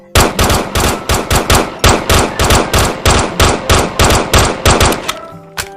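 Rapid, loud gunfire from the Gun3D weapon addon in a video game, with around twenty evenly spaced close shots over five seconds, then a short mechanical reloading clatter at the end.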